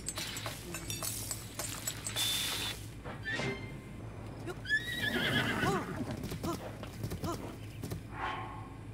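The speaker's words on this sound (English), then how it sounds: "It's strangely ominous how all the horses are just surrounding it." Horses in Breath of the Wild's Great Plateau whinny and neigh several times while hooves clip-clop nearby, with a person's voice intermittently over the game sounds.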